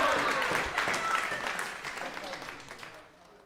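Crowd applauding at a darts finals night after a game shot, a dense clapping wash with cheering that gradually fades, under a commentator's voice.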